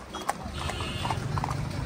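Marwari horses ridden by a group of Punjabi long-distance riders clip-clop along, a steady run of hoof strikes close by over a low rumbling background.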